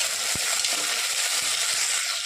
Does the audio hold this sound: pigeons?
no